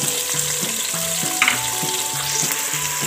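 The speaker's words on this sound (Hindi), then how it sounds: "तो देखिए जी यहाँ पे तकरीबन 30 सेकंड तक मैंने टमाटर को हिला लिया है।" Tomatoes, onions and garlic sizzle in a pan while being stirred, a steady close frying hiss with soft scraping and clinking from the spoon, and no voices.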